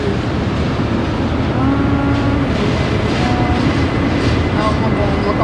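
A very long freight train rumbles steadily into a spiral tunnel in Yoho Park, British Columbia, as a loud continuous roar with faint wheel squeal, while people talk over it throughout.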